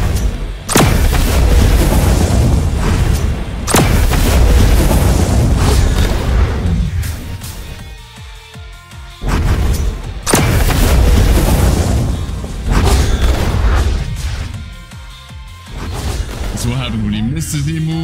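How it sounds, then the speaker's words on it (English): Loud, booming fire explosions from the Kitsune fruit in Blox Fruits burst out in quick succession, with several heavy blasts rising over a dense, continuous layer of game noise. "So instead of it being one explosion, it'd be three instead."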